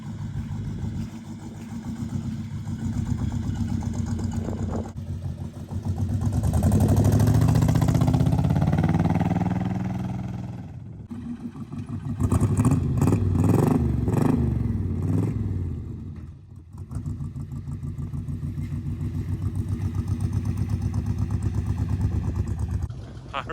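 A Chevrolet El Camino engine idles after its valve lash was set, giving a steady mid-pitched rumble that swells into revving bursts twice, with people talking over it now and then.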